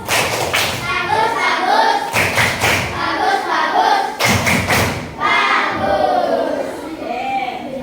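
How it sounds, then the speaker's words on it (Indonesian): A classroom of pupils claps for a classmate in a few short, loud bursts of rhythmic clapping, separated by brief pauses, with children's voices mixed in. "Tepuk tangan buatnya."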